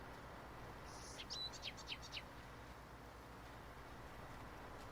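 Crows calling in the farming video game Farming Simulator 19, a short run of faint, high chirping cries over a steady low hum of engine and ambient game noise.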